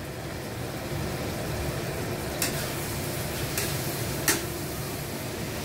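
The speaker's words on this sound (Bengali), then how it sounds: "এখন ভালো করে নেড়ে নেব সবগুলো।" Onions, tomato, ginger and chili powder being stirred in a frying pan, a steady sizzling hiss with a few sharp clinks of the spatula against the pan.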